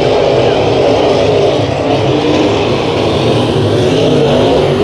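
Race cars in a heat race at Rocky Hill Speedway roar steadily and loudly throughout, a dense continuous engine drone with no pauses.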